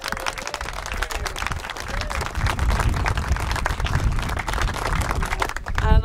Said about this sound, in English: I'd like to give a round of applause to all of the committee and the volunteers